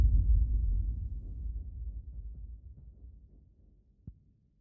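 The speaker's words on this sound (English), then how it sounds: "I also created a really epic boom," An epic boom sound effect built from a loop hits as a heavy, deep low-end blast that rumbles and slowly decays over several seconds, followed by a faint small thump near the end.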